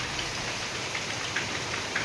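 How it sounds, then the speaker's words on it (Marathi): Heavy rain pours outside, a dense, steady hiss with scattered drop patters throughout and no voices. "बाहेर एवढा चालू आहे ना पाऊस, जबरदस्त पाऊस चालू आहे."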